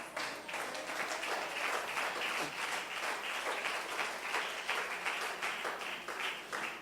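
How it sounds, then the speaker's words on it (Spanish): A church congregation claps together during a sermon, a fairly even, continuous patter of many hands, moderately distant and somewhat soft, holding steady for several seconds. "Denle un aplauso con todo su corazón."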